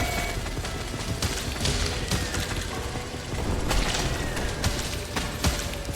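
Rapid machine gun fire in the Drill Core roguelite game, dense continuous crackling bursts with sharp transient cracks layered over a busy battle din, fairly quiet overall, no talking.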